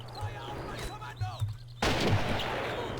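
Rifle gunfire in the World War II strategy game Men of War: Assault Squad 2, a couple of sharp shots amid ambient battle noise, then a sudden loud burst of dense firing and rumble, with someone talking over the start.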